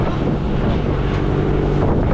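Steady, loud wind buffets the microphone aboard a fishing boat at sea during deep-sea fishing, with a constant roar and no pauses throughout.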